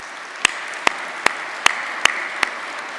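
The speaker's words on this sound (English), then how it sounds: "give a round of applause for your leaders" Six sharp, isolated claps at a regular pace, spaced about half a second apart in a quiet room at a regional business summit, with no crowd applause joining in.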